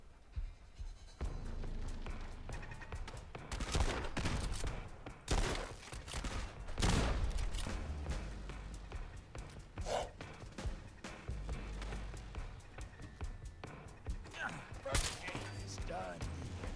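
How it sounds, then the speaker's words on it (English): Cannons fire in the video game Fallout London, with several heavy booms in a rough sequence over continuous battle noise, and a voice talking at times. "Because, of course, there's cannons."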